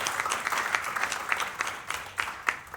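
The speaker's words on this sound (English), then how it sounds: "A big round of applause for Ben Mackey." An audience at a book launch applauds, with dense, fairly close clapping that keeps an even pace, rises and falls a little, and carries no talk over it.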